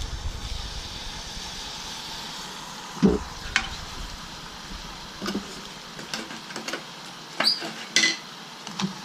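Guinness ice cream base is stirred with liquid nitrogen, giving a hissing, bubbling sizzle punctuated by irregular scrapes and clinks of the utensil against the bowl, fairly close and without speech.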